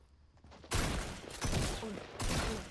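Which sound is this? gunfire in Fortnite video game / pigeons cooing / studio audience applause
gunfire in Fortnite video game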